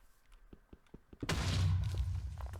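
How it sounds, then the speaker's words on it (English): A Minecraft Stoneblock modpack explosion: a deep, loud boom bursts out after a second of faint scattered clicks and thuds, then rumbles and sustains with crackling debris to the end. "Explosion."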